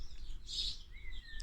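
Quick high bird chirps ring out near a Mini during bonnet and turbo clearance work, a bright burst in the middle over low background rumble.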